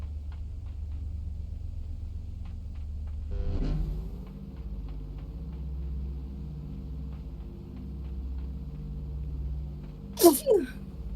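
One sharp sneeze bursts out near the end, brief and fairly close, over a low steady engine-like rumble that runs through the whole stretch.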